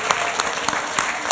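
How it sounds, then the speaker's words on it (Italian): Audience applause, a steady wash of clapping with rhythmic peaks, heard loud and close for a brief moment. "Oh, bravo, applauso."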